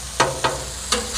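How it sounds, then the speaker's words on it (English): A burger patty sizzling on a grill as it is flipped, a steady frying hiss with three sharp scraping clacks from the spatula. "let's go ahead and flip our first burger here"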